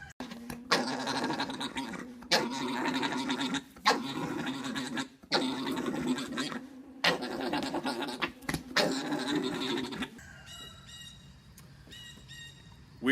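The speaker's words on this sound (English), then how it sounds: "the male makes this sound that's called orgling, which is terrifying" A male alpaca orgles in its mating call, a repeated throaty gurgling drone in rhythmic bursts separated by short pauses, loud and close, with a few quieter tonal calls near the end.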